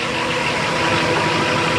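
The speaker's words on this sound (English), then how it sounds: "So I'm gonna start starboard engine." A twin-engine 2003 Sea Ray's starboard Mercury MerCruiser 8.1L (496 ci) big-block inboard engine runs with a loud, steady, close rumble and no voices.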